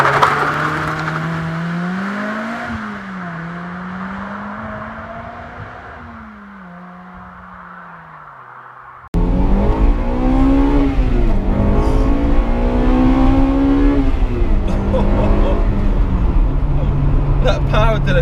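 Honda Integra Type R engine revving, a rising and falling high-pitched engine note that drops away briefly and then returns much louder and harsher from close by.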